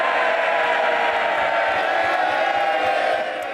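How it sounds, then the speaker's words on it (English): Members on the Conservative benches of the House of Commons applaud and cheer at the end of a budget speech, a dense, steady roar of crowd noise that fills the chamber without pause. "there's the applause from the Conservative benches there for Rishi Sunak"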